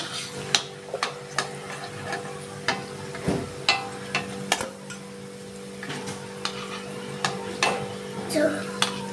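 Sweet potato pithe dumplings frying in oil, a steady low sizzle with scattered sharp pops and clicks of utensils against the pan, close by and fairly quiet, with no talk.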